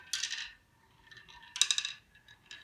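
Marbles roll and clatter along a wooden Z-Track marble toy, with two bright bursts of rattling clicks followed by a smaller tap, quiet and close in an otherwise still room.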